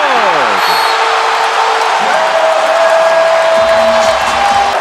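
Basketball arena crowd on its feet for the Golden State Warriors during a late comeback: a loud, steady roar of cheering, whistles and horn tones, with a commentator's voice over it.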